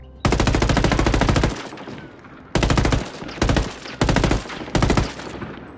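Unsuppressed automatic gunfire in Ghost Recon Wildlands: a long rapid burst followed by several shorter bursts separated by brief pauses, loud and close with no talk.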